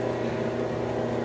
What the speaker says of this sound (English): You might hear a bit of a fan noise in the background.